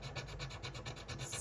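Coin scratching a lottery scratch card: a quiet, rapid back-and-forth rasping with a steady rubbing rhythm, close up and faint, with no other sound over it.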